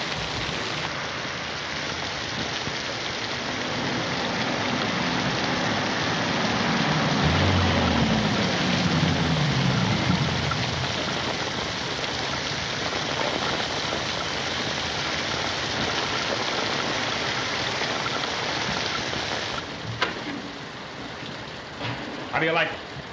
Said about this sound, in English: Raining, blast it.